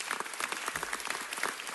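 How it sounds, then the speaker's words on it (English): Audience applause at a city council meeting, honoring Anita Hill: dense, steady clapping from a sizable crowd, close and continuous through the whole stretch, with no voices over it. "could we just take a minute to applaud Anita Hill?"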